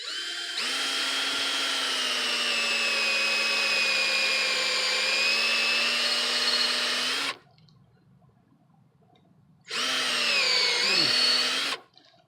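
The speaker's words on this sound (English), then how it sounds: "Put your drill against the tree." A power drill bores into a tree trunk to tap it for sap, whining loudly and steadily for about seven seconds, then after a short pause running again for a second burst that slows and dips in pitch.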